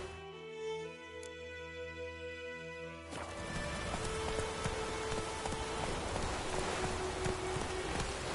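Rain patters steadily on surfaces in The Witcher video game, a dense hiss that swells stronger partway through and carries faint background music and soft hoof-like clopping underneath.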